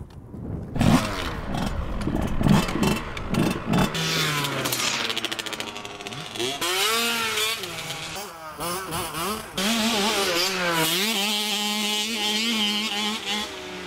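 Several motorcycles start and rev together before a group ride, their engine notes climbing and falling in overlapping sweeps while people talk over them.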